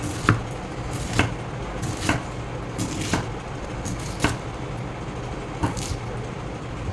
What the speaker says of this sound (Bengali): বাঁধাকপিটা প্রথমে কেটে নিই। আমি এরকম বড় বড় টুকরো করে কেটে নেব।